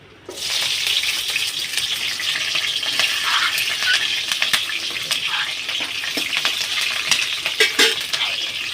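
Green chilies and onions fry in a pan with a loud, steady sizzle and crackle that runs throughout, with occasional louder pops and no voices.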